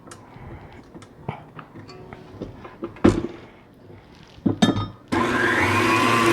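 Crepe batter being whisked until smooth in a bowl, a steady scraping mix with sharp knocks and clatter, ending in a loud continuous whirring blend near the mic.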